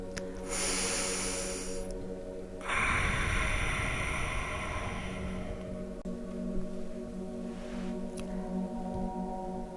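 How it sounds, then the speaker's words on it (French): Deep, forceful yogic breaths in a vinyasa yoga class, a strong rushing exhale and inhale at close range over a steady low hum, with no talking. "Et on revient sur notre respiration de yogi."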